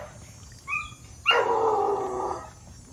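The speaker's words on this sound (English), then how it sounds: "What's up with them puppies?" A puppy gives a short high yip, then a longer whining bark-howl that holds for about a second, close and alone against a quiet outdoor hum.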